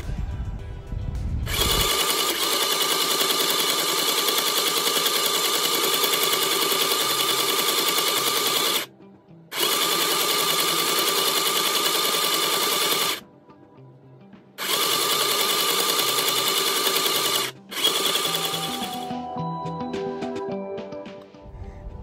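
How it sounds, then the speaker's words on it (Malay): A sewing machine runs in three long loud bursts, stitching folded apron ties with a double seam and attaching them to a child's apron, with brief pauses between runs and no talking. "Ia dijahit dengan double agar menjadi kukuh."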